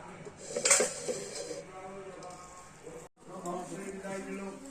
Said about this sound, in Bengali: গোসাইমা ভোগ সাজাচ্ছে থালার মধ্যে আগে ঘি দিয়ে আগে সব পুরো মাখা হয়েছে এই থালাগুলোকে